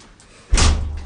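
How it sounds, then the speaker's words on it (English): A door swinging open into a bronze ensuite room at student accommodation in Manchester: one sudden thud followed by a low, sustained rumble and rush, loud and close, with no talking. "open the door for us"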